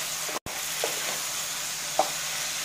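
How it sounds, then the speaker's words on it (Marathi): Tomatoes roasting in a pan for tomato chutney, a steady close sizzle with a few soft stirring scrapes and one brief cut in the sound near the start. "तर टोमॅटो मऊसर वस्तूप्रमाणे आपण भाजून घ्यायचं आहे।"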